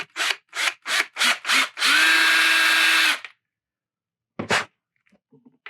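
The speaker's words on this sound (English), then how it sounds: "the first thing I want to do is I want to drill 3/32 hole in here." A power drill boring a 3/32 inch hole in a 1/4 scale Aqua Man model, heard as five short close, loud bursts and then one longer steady whir, with a single brief burst afterward.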